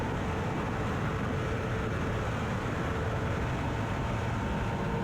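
A GTU-class race car engine held at full throttle on a Daytona racing game track, a dense, unbroken roaring drone at constant loudness with no pauses.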